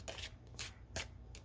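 Tarot cards being shuffled close by, several quick papery riffling bursts in a row against a quiet background.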